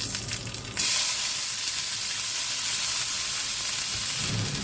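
Onions, dried red chillies and other ingredients fry in oil for a watermelon bhaji: after a brief quieter opening, a loud, continuous hissing sizzle starts abruptly and holds steady.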